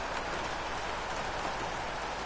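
Rain falling during a race in a racing video game, a steady, faint hiss of broadband patter that stays even and unbroken throughout, with no voices over it.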